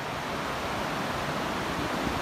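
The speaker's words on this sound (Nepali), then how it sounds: "खोला पुरा कराइरहेछ" A river roars steadily below a suspension bridge near Manjushree Park in Kirtipur, a dense, constant wash of rushing water with no voices over it.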